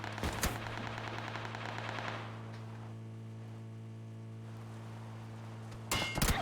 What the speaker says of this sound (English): Standards taking shots. Taking more shots.